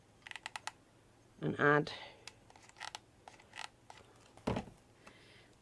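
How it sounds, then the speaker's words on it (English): Scissors cut ribbon on a shabby chic wedding bouquet, making a run of small, close, crisp snips and clicks, with a voice speaking briefly in between. "I'm just gonna cut that off"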